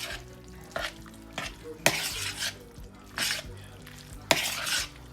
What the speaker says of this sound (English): Rotini pasta. I'm going to add that to it. And stir it all up.